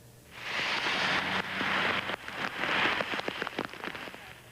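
Heavy thunderstorm rain pours down across the Iron Range in Minnesota, a dense, loud hiss of water hitting surfaces with crackling patters, steady throughout with no talking.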